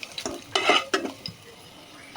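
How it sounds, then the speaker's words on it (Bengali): Garlic fries in oil while being stirred. Brief bursts of scraping and clinking against the pan sit over a light, steady sizzle, close up, with a quieter stretch before a final stir. "আমি এখন রসুনগুলো দিয়ে দেবো, এগুলো নেড়ে ছেড়ে নেবো, একটু লাল লাল করে নেবো"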